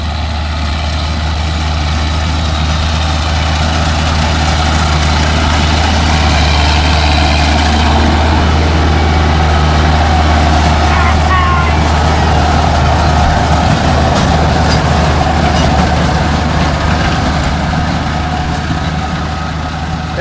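A tractor cutting hay rumbles steadily and loudly throughout, its heavy engine drone holding close and constant for twenty seconds, swelling slightly midway as it passes, with no talking.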